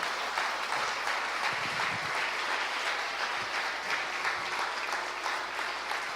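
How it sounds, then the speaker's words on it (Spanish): A church congregation at a Spanish-language service applauds in a steady, sustained wash of clapping that stays even in level throughout, with no voices rising above it. "Dale un aplauso al Señor."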